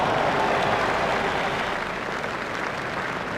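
A cricket crowd at an India versus England match applauds Tendulkar's half century, a dense, steady wash of clapping and crowd noise that stays loud for the whole stretch.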